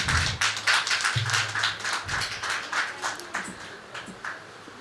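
Audience applause at a Hindi kavi sammelan poetry gathering: a burst of clapping that is strongest at the start and gradually thins out and fades.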